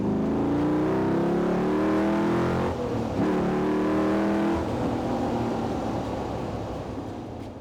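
Drakan Spyder sports car, driven without power steering, with a loud engine that climbs through gears with rising tones, briefly shifts, then pulls again and eases off, heard close with no talk.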